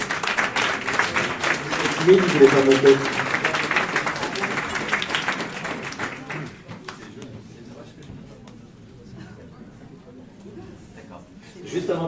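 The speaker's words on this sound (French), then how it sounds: "vous pouvez l'applaudir les uns et les autres" Audience applause at an awards ceremony swells and peaks early, then thins to scattered claps as someone speaks over it in French.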